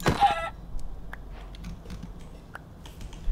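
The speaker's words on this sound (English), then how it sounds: "That's a chicken." A Minecraft chicken gives a brief cluck right at the start, followed by quiet game ambience with faint scattered clicks.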